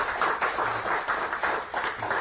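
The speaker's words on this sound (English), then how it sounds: "can we give them a round of applause for all the work they do?" Audience applause after a call to honor volunteers at a Bristol Rhythm & Roots Reunion announcement event, a dense, steady patter of many hands clapping together, sustained at moderate loudness throughout.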